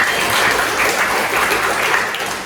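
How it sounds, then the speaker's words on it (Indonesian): A classroom of students applauds together in a steady, dense clapping that holds for a couple of seconds, fairly loud and close, with no talk over it. "Tepuk tangan buat Abinaya."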